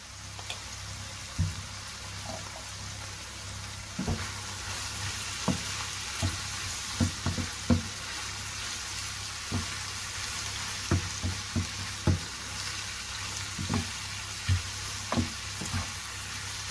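Ingredients are stirred and mixed in a sizzling pan while making batbout, with a soft steady frying hiss broken by a series of irregular spoon knocks and taps against the pan, close and quiet, without talk.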